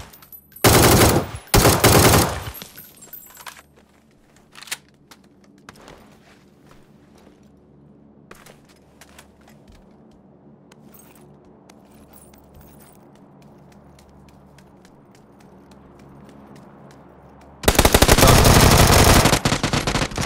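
Rapid automatic gunfire from a video game shooter bursts loudly twice at the start, then quiet shuffling and faint game sounds follow before a long sustained volley erupts near the end.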